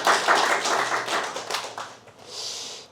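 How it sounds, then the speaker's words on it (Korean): A church congregation claps for a member, a short burst of close hand claps that tapers off after a couple of seconds, followed by a soft hiss. "우리 권민정 자매를 위해서 박수 한번 칩시다"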